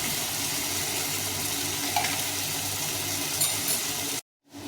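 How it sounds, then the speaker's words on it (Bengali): Okra fries in a pan with a little water, giving a steady, loud hiss of sizzling that runs evenly and then cuts out abruptly near the end. "সামান্য একটু জল দিয়ে দেবো দিয়ে এটাকে ভালো করে ভেজে নিচ্ছি"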